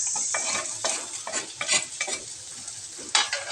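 Garlic and onion sautéing in a pan, a close continuous sizzle broken by rhythmic stirring scrapes of a spatula.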